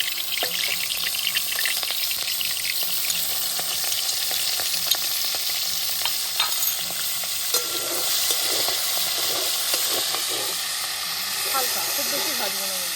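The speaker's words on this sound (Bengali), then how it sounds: "এই চিংড়ি মাছগুলো আমি হালকা করে ভেজে নেব।" Prawns fry lightly in hot oil with a loud, continuous sizzle and hiss, broken by stirring scrapes and bubbling crackles throughout.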